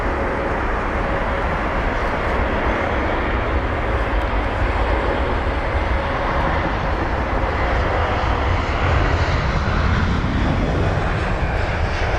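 An aircraft arriving on runway 27 at London Heathrow, a loud, steady engine roar that fills the whole stretch without letup and swells slightly near the end.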